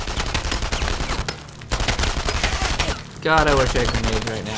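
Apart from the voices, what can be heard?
gunfire from enemies in the video game Enemy Front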